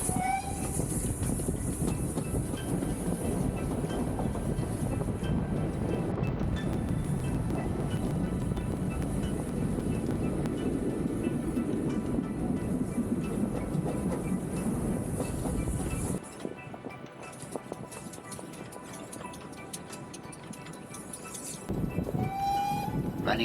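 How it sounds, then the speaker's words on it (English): Heritage steam train of the Dartmouth Steam Railway rolling through the 495-yard Greenway Tunnel, a loud continuous rumble and rattle of carriages with a high hiss, dropping abruptly to a quieter drone near the end before swelling again. "It's time to travel through the 495-yard Greenway Tunnel."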